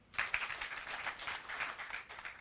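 A crowd at a Nakuru address claps for the former prime minister, a short, moderately loud burst of applause that rises and holds briefly before tapering.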